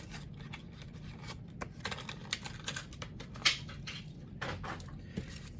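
Diecast car card packaging being opened by hand, a 1/64 NASCAR model in blister card, heard as close, irregular crinkling plastic and cardboard clicks and tears, fairly quiet with no talking.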